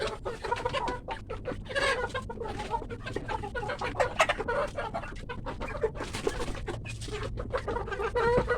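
Many chickens on a poultry farm cluck and chatter together in a busy, overlapping chorus, close and fairly loud, with occasional sharper calls standing out.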